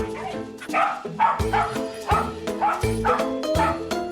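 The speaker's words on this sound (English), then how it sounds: "Typical Jackapoo sound," A Jackapoo dog barks repeatedly at close range, a steady series of about six shrill, yappy barks with whiny overtones in even rhythm.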